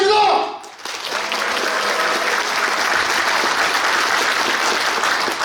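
A crowd at a union delegates' congress in Gyeongju cheers and applauds to open the meeting. A brief announcing voice comes first, then loud, steady clapping and shouting fill the rest.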